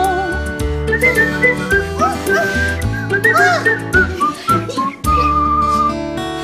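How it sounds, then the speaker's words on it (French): Someone whistles a cheerful melody over upbeat instrumental music, the whistled notes bright and lively throughout. "Siffler, siffler une chanson."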